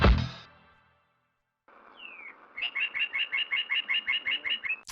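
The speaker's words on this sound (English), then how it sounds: "It also ends out with a chirp." A synthesized bird chirp in game music: a short descending tweet, then a rapid train of about a dozen evenly spaced bright chirps over a soft noisy bed, following a brief burst that fades into silence.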